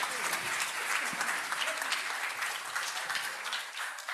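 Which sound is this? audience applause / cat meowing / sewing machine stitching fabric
audience applause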